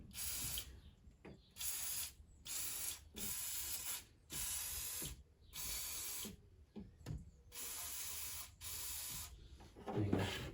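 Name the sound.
aerosol spray of penetrating oil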